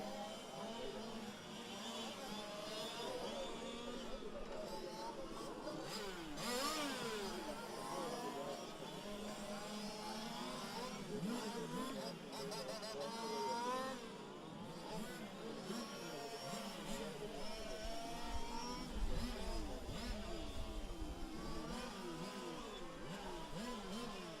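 Fifth-scale GT race cars in a world challenge main event, their small engines buzzing and revving in overlapping rising and falling whines, mostly at a distance, with an announcer talking over them.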